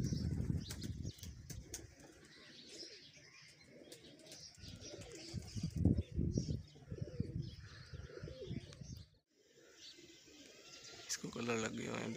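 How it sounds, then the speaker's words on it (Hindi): Pigeons cooing softly with scattered chirps and a flutter of wings, someone talking over the birds for most of the stretch. "आसमान में तो कबूतर ही कबूतर हो गया है।"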